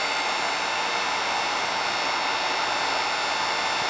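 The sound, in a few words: heat gun heating 3D-printed face mask seam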